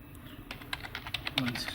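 Quick, light keystrokes on a computer keyboard while entering a router's IP address, about a dozen irregular clicks in a short burst over a quiet room hum.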